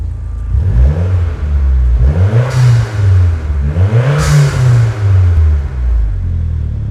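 An auction car with a blow-off valve idles and revs close by, its loud engine rumble rising and falling through several revs with whooshing bursts at the peaks.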